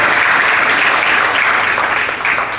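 Church congregation applauding during a sermon, a loud, dense and steady roar of many clapping hands filling the whole brief stretch.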